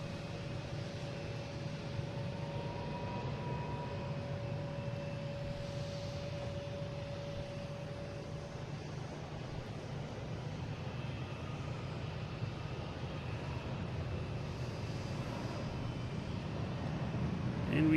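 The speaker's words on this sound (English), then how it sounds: "we have a Cessna Citation Latitude coming in from Philadelphia," A Cessna Citation Latitude business jet landing at Boston Logan airport produces a broad, steady engine roar with a low drone and a faint tonal whine, sustained and gradually swelling, heard from a distance outdoors.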